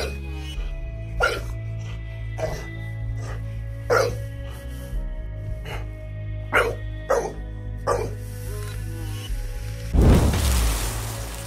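American Bully puppies bark nearby in a string of sharp, separate barks spaced a second or so apart, then a louder noisy burst near the end.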